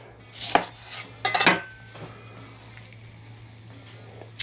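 A knife slices a rolled lemon in half on a cutting board, with two or three sharp, close chopping knocks in quick succession, then quiet kitchen room tone.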